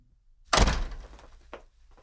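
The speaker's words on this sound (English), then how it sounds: "And close the door." An office door swinging shut with one solid thump, followed by a faint latch click a moment later. Nobody speaks.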